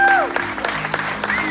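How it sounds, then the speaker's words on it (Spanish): Guests at a pastors' wedding in California clap for the family, a handful of sharp, irregular claps over sustained tones and background voices. "Den un aplauso fuerte a la familia."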